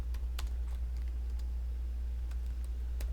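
Typing on a computer keyboard, a handful of light, scattered key clicks over a steady low hum of background noise, no voices.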